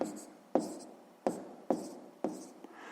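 A pen writes numbers on paper during a sixth-grade maths exercise, with several short, sharp scratching strokes each followed by a brief drag, close and faint, without speech over it.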